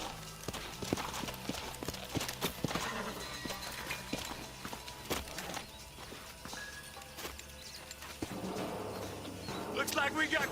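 Rhythmic clip-clop of horse hooves on hard ground, steady and fairly close, with faint birdsong and scattered game sounds around them.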